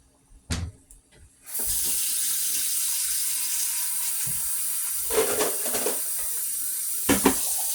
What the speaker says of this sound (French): Là maintenant, je vais ajouter de l'eau.